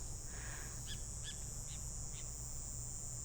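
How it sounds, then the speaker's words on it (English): A few short bird calls sound at intervals against a steady high whine and low background rumble, fairly faint and at a distance. "All these bird noises behind me."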